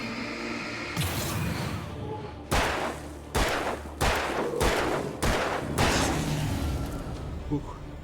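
Shotgun or rifle gunfire in the video game Alan Wake: about seven sharp, loud blasts at irregular intervals, each followed by a short decaying tail, over a low ambient rumble.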